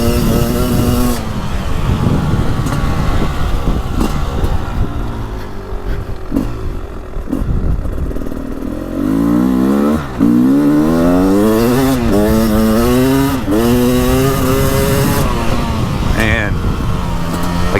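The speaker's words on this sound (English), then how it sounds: "this is probably one of the best 300 two-stroke engines I've ever ridden, and this one feels really good" A 2023/24 Beta 300 Race Edition two-stroke dirt bike with two spark plugs revs loud and close, its buzzy engine note climbing and falling through repeated throttle blips over a steady run.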